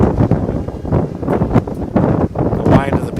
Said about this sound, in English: Boy, that's a big old gust.